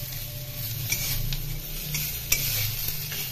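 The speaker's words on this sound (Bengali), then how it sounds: "আর দেখো খয়রা মাছ আমি ভাজছি।" Khoira fish sizzles loudly in hot oil, a close, continuous frying hiss punctuated by a few clinks and scrapes of stirring.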